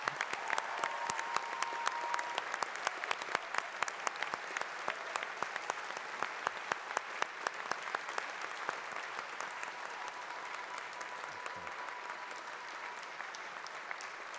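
A crowd at a Faculty of Science graduation for the class of 2026 keeps up sustained, even applause, a dense wash of clapping with occasional sharper nearby claps, steady for the whole stretch without talk.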